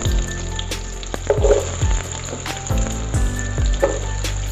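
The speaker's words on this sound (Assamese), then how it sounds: "এতিয়া ইয়াতে দিম মই কাটি ৰখা আলুখিনি।" Cut potatoes drop into hot oil already seasoned with bay leaf and green chilli, frying with a loud close sizzle broken by clattering stirs and knocks of a utensil against the pan.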